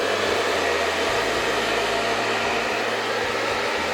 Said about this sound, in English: I'm just going to dry it with a dryer.